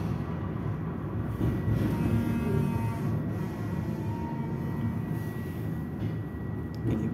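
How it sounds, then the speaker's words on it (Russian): Tram number 1210 runs along city route 6, a steady low rumble of wheels and motor heard from inside the car, continuous and fairly loud throughout with no talk. "Запись полного трамвайного маршрута номер 6"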